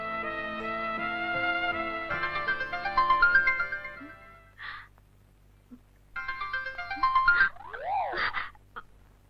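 A phone ringtone plays a bright electronic melody in two bursts separated by a short pause, clear and close with no talking.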